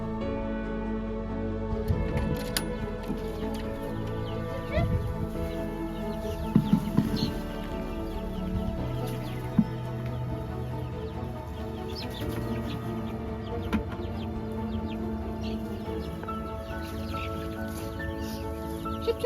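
Backyard chickens fed freshly pulled garden weeds cluck and chatter continuously at close range, with a few sharper squawks over steady low background noise.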